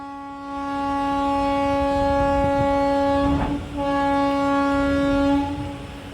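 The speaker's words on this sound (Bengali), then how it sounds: "হর্ন বাজিয়ে দিল আর ছেড়েও দিল।" Passenger train horn, Kandari Express 22898, blares in one long steady tone, a brief break midway, then sounds again as the train pulls out of a station; loud and close over rumbling rail noise.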